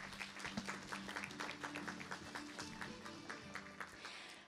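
An audience at a symposium opening ceremony in Korea breaks into applause, a brisk burst of many hands clapping that holds steady for several seconds in a hall, with no one speaking over it.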